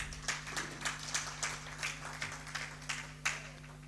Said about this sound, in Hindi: ताली बजाइए इस बात के लिए